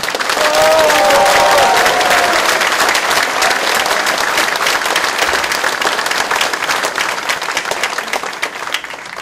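A crowd at a political party founding rally bursts into loud, dense applause, sustained clapping from a large audience that holds strong throughout and eases slightly at the end.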